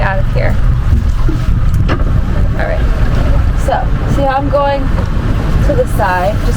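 A boat engine rumbles low and steady while the vessel maneuvers out of a dock during docking practice, wind buffeting the microphone and people talking over it.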